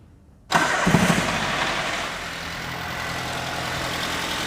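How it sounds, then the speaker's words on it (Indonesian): A car engine is started during a battery and charging-system check. It catches abruptly after a brief silence, surges loudly, then settles into a steady close idle with no voices. "ketika ini sudah saya nyalakan mesinnya, ini terdengar suara mesinnya ya, menyala"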